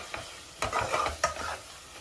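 Chili powder sizzles in a pan of oil for an Andhra-style chicken curry, a spoon scraping and stirring it in two or three quick strokes, close and fairly quiet.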